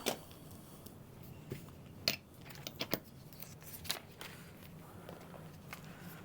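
Scissors cut fabric for a convertible bag, giving a few irregular snips and rustles up close, with soft handling noises and fabric shuffling between cuts and no speech.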